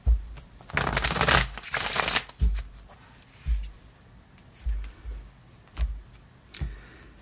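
Tarot cards are riffled and shuffled close by in a long, loud burst of papery flutter, followed by several softer separate taps and slides as the deck is handled, with no talk.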